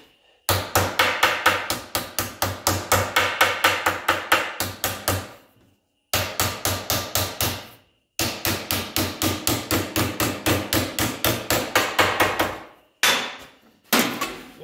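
Hammer pounding a sheet metal lip of an electric fan shroud to bend it back, long rapid bursts of loud, evenly spaced metallic blows separated by short pauses.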